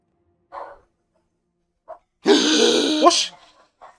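Dogs bark in a horror video game: a few short, faint yaps are separated by gaps, then a loud, harsh sustained bark burst lasts about a second before fading into quieter yelps.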